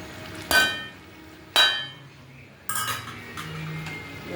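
A utensil stirs aloo dum with crushed kasuri methi in a pan, with two sharp metallic clanks against the pan followed by a stretch of steady scraping, close and fairly loud with no talking.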